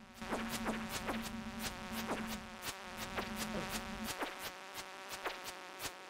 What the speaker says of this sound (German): Kommt die vierte Fliege.